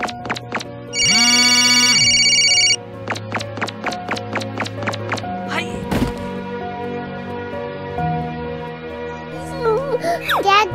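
A phone rings in the Roblox Brookhaven roleplay game, a loud electronic tone held for about two seconds, followed by a long run of evenly spaced clicks and thuds with occasional chirpy game sounds.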